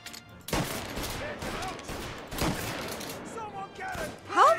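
Gunfire in a shootout in Mafia: Definitive Edition, several loud close bursts of shots with reverberant tails, spaced about two seconds apart, followed by clattering sounds.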